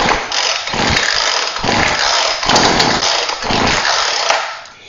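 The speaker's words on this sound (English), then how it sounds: "We're gonna pull the starter 3 to 5 times." A Ryobi 18 inch chainsaw pull-started by hand, its small two-stroke engine giving several loud, close, rasping bursts with short gaps as the cord is yanked repeatedly, no speech.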